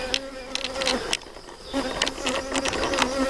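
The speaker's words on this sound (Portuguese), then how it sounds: "estamos aqui um enxame de 10 metros de altura." A honeybee swarm about ten metres up in a tree, a dense continuous buzzing with individual bees droning close past, loud and without speech.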